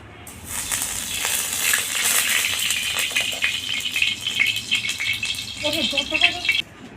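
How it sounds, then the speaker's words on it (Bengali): Koi fish hit hot oil in a wok and set off a sudden burst of dense crackling and spitting that continues for several seconds, then a brief voice near the end before the sizzle cuts off. "এবার আমি মাছগুলোকে ভেজে নেব"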